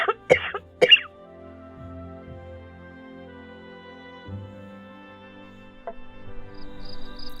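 One person gives two sharp, close coughs in quick succession, then a faint low hum and quiet room noise follow, with a softer rustle near the end.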